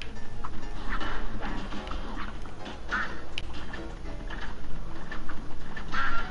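Cartoon duck quacking in the run-and-gun game Cuphead, repeated quacks over busy game music and effects, fairly loud and regular.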